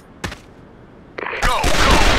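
Gunfire in the video game Sudden Attack: a couple of isolated sharp reports, then a loud sustained burst of automatic fire with clattering noise, close and dominant.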